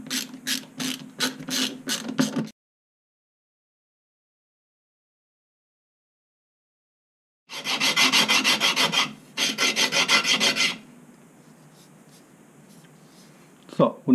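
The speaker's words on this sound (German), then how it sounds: "Dann schraube ich mal die Leiste hier dran." Wooden strip being screwed onto a small wooden block for a glider decalage gauge: bursts of rapid ratcheting, grinding clicks, close and loud, separated by a long silence, then a faint rustle and knock.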